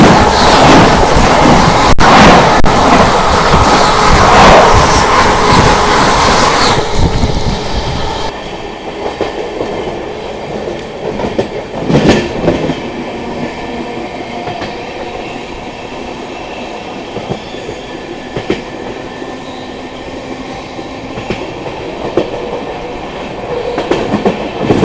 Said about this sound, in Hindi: दोस्तों सामने से आ रही है नई दिल्ली लखनऊ स्वर्ण शताब्दी एक्सप्रेस।